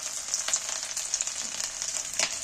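Ginger and garlic hit hot oil with onion and chilli, giving a bright, steady sizzle close by with a few stirring scrapes and crackles.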